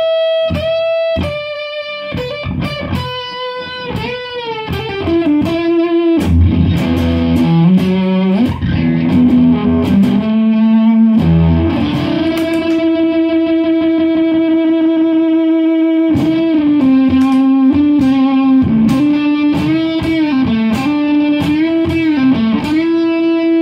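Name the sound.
electric guitar through fuzz distortion pedal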